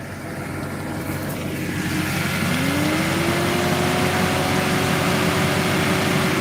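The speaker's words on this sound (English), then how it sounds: "take a listen one more time to the engine bay and the exhaust note" A steady car engine drones continuously with its exhaust, joined after a couple of seconds by a rising whine that settles into a sustained tone, loud and close.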